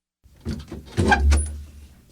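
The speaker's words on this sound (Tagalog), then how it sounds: "May nagbukas ng pintuan." A door swings open with a short creak and a dull thud, brief and close, heard alone in a quiet indoor room.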